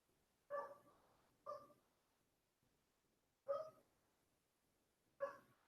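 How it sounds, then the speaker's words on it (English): Four sharp dog barks, spaced a second or two apart, ring out alone in a quiet space, each followed by a short fading tail. "We have many dogs are barking."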